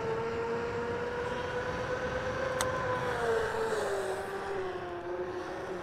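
A Dragon Slayer vehicle makes tight maneuvers and brakes, its engine giving a steady drone whose pitch dips and rises with the moves. It stays loud and close the whole way through, and no one speaks.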